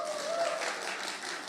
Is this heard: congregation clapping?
yes